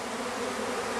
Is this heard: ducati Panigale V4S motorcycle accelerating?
no